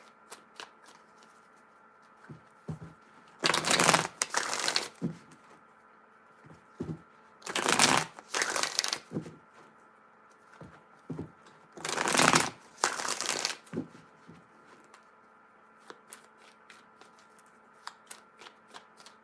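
Tarot deck being shuffled by hand in three loud riffling bursts, each a couple of seconds long, separated by quieter taps and handling noises.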